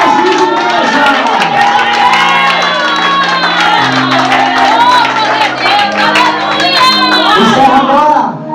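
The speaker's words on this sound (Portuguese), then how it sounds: "Aplaude o nome de Jesus, igreja" A church congregation applauds and cheers in loud, sustained worship, with shouts and whoops over the crowd and a sustained tone running underneath throughout.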